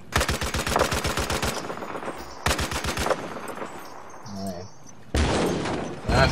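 Battlefield 4 multiplayer gunfire: loud, rapid machine-gun bursts crackle in three long volleys separated by quieter gaps, while a player talks.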